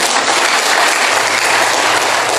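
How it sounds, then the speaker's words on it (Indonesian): Church congregation applauding the musicians during a sermon, a loud, dense, continuous roar of clapping hands lasting throughout. "Tepuk tangan buat mereka."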